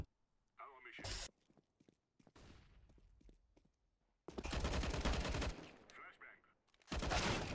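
Gunfire in a Counter-Strike: Global Offensive firefight: loud, dense bursts of automatic shots alternating with single cracks and quieter gaps, interrupted by lively talking.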